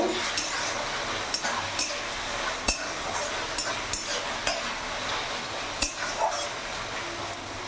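Chicken curry ingredients being mixed in a pot, a spoon scraping and knocking against the metal in sharp, irregular clinks over a soft background sizzle, close by and without speech.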